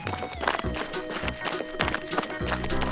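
A toy horse scene fills with a neighing whinny and rhythmic clip-clopping hooves, loud and close, set against a dense, busy background.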